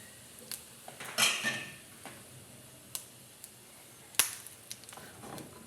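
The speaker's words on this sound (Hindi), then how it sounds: "इसे थोड़ा सा चला दें।" A spoon stirring cumin seeds in a cooking pot, sounding as scattered light metallic clinks and scrapes, close and fairly faint, with a louder clank near the middle.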